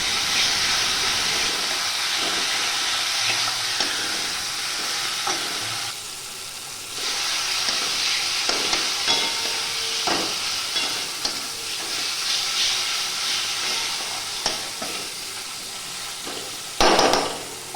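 Tomato and green chillies with salt sautéing in a pan: a loud, steady hiss of frying runs throughout, with repeated spatula scrapes and taps, a brief dip in the sizzle midway and a sharper clatter near the end.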